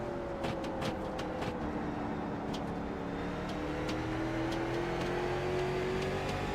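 Race cars circling the Stafford track, engines droning loudly and continuously with a rising pitch as the field passes, dense and close.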